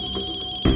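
A mobile phone rings in a CID television drama scene, a steady electronic tone heard briefly and up close before a louder thump cuts in.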